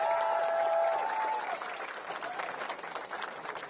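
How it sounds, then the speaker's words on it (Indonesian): Crowd applause at an Indonesian political campaign rally, loud and sustained clapping with a brief whistle-like tone early on, gradually thinning toward the end. "Tepuk tangan untuk beliau."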